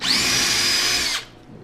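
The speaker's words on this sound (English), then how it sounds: "And just drill a little" A power drill bores a small bolt hole for a GT2000 steering part, a loud close high whine that holds steady for just over a second, then stops abruptly.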